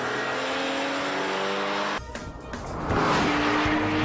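A rear-engined Porsche 911 Carrera Turbo drives hard, its engine droning steadily, then briefly dropping off before surging back louder with a high tire squeal layered over the roar.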